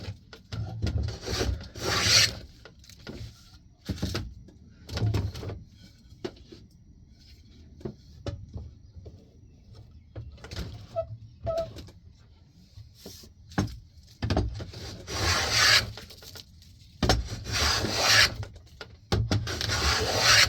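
Hand plane strokes on wooden shelf components held in a vise in a hot shed, giving repeated rasping bursts of shaving in irregular groups, close and fairly loud, with quiet pauses between.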